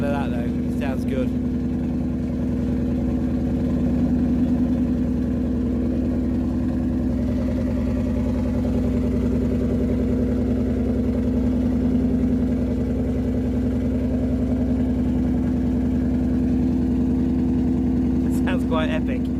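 A Lexus LS400 engine idles steadily through a de-catted exhaust, giving a deep, even rumble that stays close and constant for the whole stretch.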